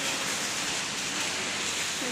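Heavy rain pours down outdoors as a constant dense hiss, even and unbroken throughout, fairly soft in level.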